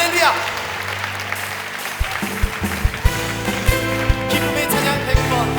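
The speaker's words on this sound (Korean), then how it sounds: "우리 주님께 감사와 영광의 박수 올려드리시겠습니다" Church congregation clapping during a Korean prayer meeting service, a steady wash of applause with sharper claps standing out over a low sustained organ or keyboard tone and some voices.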